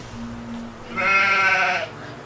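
A goat in an animated train series gives a single wavering, nasal bleat lasting under a second, close and clear, after a quiet moment with a faint low tone.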